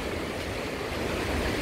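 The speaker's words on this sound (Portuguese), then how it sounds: "Começou um ventinho agora" Wind gusts across the beach at Balneário Camboriú on a hot, humid day with a storm forecast, a steady broadband rush with surf mixed in, with no voices present.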